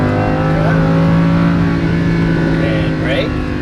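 A Lamborghini Huracan race car's engine drones under throttle on a racetrack, a steady tonal hum with a brief rising pull near the end, heard beneath a driving instructor's coaching voice.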